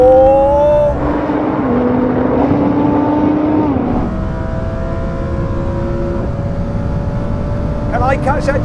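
A Lamborghini Huracan accelerates hard at full throttle in a race against an Audi R8 and a Nissan GTR, a loud sustained engine roar rising in pitch with a shift partway through, with people talking over it.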